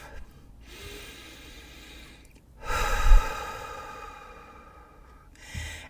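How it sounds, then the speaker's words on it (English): Slow, deep breaths taken close to the microphone during a nightly calming practice: a soft inhale, then a louder, fuller breath with a rushing exhale, and the start of another, without speech. "take 3 deep breaths"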